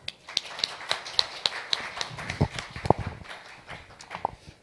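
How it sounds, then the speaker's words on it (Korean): Audience applause in a hall for a speaker at an agri-food industry future growth forum, a steady patter of many hands with a few louder sharp claps standing out near the end. "큰 박수 부탁드리겠습니다."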